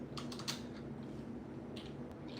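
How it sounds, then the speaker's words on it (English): Quick, uneven keyboard typing, a burst of clicks early on and a few more taps near the end, over a steady low background hum. "I'll type it in the chat"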